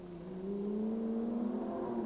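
A Porsche GT1 race car in 1996 runs a 24-hour endurance test at Le Castellet, its engine note rising in a smooth, climbing whine as it accelerates past, fairly faint and distant, alone without voices.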